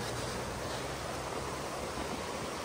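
River rushing through Clare Glens in Ireland, a dense, even wash of flowing water, close and continuous with no voices.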